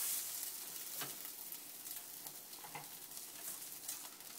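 Onions frying in a pan for a torta cubana, a steady, soft sizzle with occasional stirring scrapes, close and without talk.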